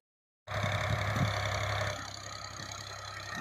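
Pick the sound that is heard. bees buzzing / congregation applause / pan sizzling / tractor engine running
tractor engine running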